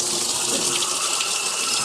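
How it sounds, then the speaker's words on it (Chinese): A bathroom faucet with its filter screen removed runs steadily, a continuous bright gush of water close by with no voices. "然后我们把这个水龙头打开"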